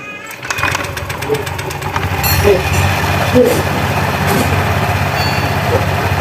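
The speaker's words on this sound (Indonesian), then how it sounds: "Nah, tinggal hidupkan motornya untuk melakukan pengecekan." A Honda Vario 125 injection scooter engine fires up for a check during a CVT service, then runs at a steady, fairly loud idle with a low rumble, while a voice speaks faintly nearby.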